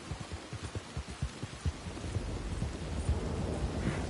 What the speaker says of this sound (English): Riding my bike through the pouring rain,